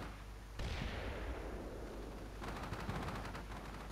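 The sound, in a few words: big machine gun firing, from the video game Combat Mission: Shock Force 2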